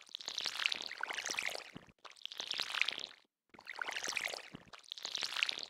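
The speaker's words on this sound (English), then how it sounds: "satisfying water sound that sounded like pissing" Splashing, pouring water from the video game Stardew Valley in four bursts separated by brief silences, bright and hissy, with no talking.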